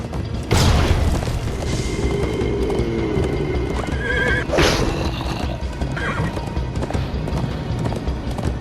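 Galloping horse hoofbeats in Minecraft Story Mode, a steady clip-clop chase rhythm with a neigh or whinny and a few loud impacts, all fairly close and loud throughout.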